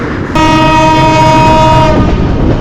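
A Sri Lankan hill-country train with a Vistadome carriage leaves Ohiya station, sounding one long, loud, steady horn blast over a rumbling engine that continues after the horn stops.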